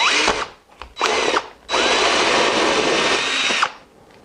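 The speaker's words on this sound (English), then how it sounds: "with my 1¼-inch hole saw at about 1/3 of the way up the gourd. I'll start drilling my hole." A 1¼-inch hole saw on a power drill bores through a dried gourd for a birdhouse, whining loud and close in short bursts before one long steady cut of about two seconds, with no talking.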